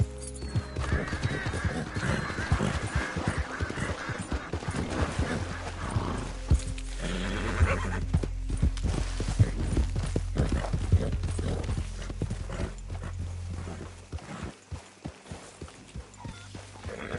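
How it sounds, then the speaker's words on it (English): Horse sounds from Red Dead Redemption 2 play: a busy, continuous mix of hooves clopping, rustling and snorting, loud and close, with a short dip near the end and no clear talking. "Arthur, get that horse out"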